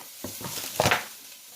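Ground turkey dropped into a hot pot to brown for stuffed bell peppers, giving a brief burst of sizzling with a few clinks, alone and close.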